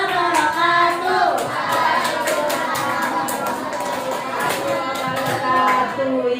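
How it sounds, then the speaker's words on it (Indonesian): A group of students clapping in a classroom, a dense, steady patter of many hands applauding for several seconds, close and lively, with a voice briefly heard over it. "Tepuk tangan lagi dong."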